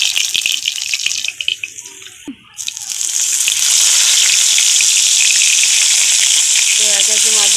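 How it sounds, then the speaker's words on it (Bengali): Salted, turmeric-coated bata fish fry in hot oil in a wok: clattering handling sounds and a brief lull first, then a loud, close, continuous sizzle with spitting pops for the rest of the clip. "তো এক একে মাছগুলো ভেজে নিচ্ছি।"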